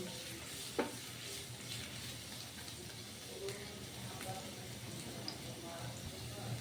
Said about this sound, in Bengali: আর দিয়ে দিব রসুন কুচি। এখন আমি নেড়ে চেড়ে দিব।